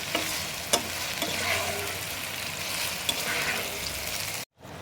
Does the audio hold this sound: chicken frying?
yes